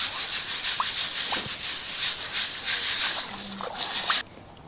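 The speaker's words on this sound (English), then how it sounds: "this is with the finer gravel. Give it a rinse." Fine sapphire-bearing gravel is rinsed and sifted, producing a continuous wet, hissing rattle of small stones shaken in a sieve, close and fairly loud, stopping abruptly near the end.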